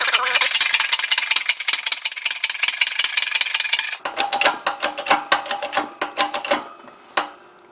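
A control arm bushing is pressed in with a 3/4 inch drive tool during S2000 front suspension work, a steady fast metallic ratcheting buzz followed by slower, separate clicks and clunks, close and fairly loud.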